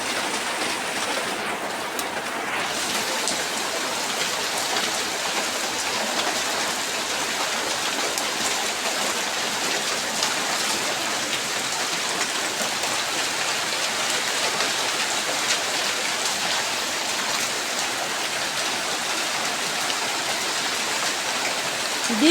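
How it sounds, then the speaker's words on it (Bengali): Heavy rain pours steadily and loudly throughout, a dense unbroken hiss of drops drumming on surfaces with no pauses. "আজকে এত বৃষ্টি।"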